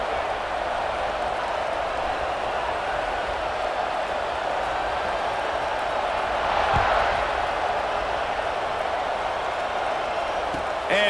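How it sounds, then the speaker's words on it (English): Steady stadium crowd buzz at a Nebraska home football game against Ohio State, a broad continuous roar filling the space with a brief swell midway, distant cheering mixed into the din. "this crowd is buzzing after that last score"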